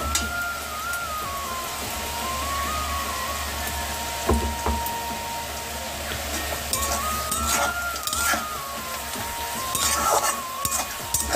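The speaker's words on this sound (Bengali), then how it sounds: "এবার মাংস দেবো।" Meat dropped into reddish-browned fried onions in a home cooking pan sizzles steadily, with scattered clinks and scrapes of stirring close by.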